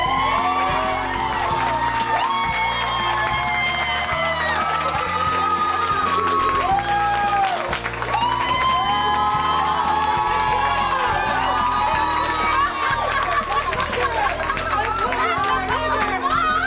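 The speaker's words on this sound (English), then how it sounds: "And please, can we applaud Janine?" A large indoor crowd at a community event cheers, claps and shouts continuously, a dense wall of voices and applause that never lets up.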